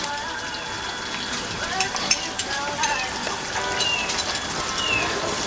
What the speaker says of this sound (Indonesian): Udah seperti ini digoreng lagi.